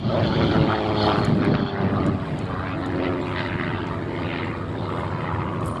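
Vintage propeller aircraft flying at the Shuttleworth airshow, a loud steady engine drone with propeller throb that eases slightly after the first couple of seconds and holds through the rest, with no talk.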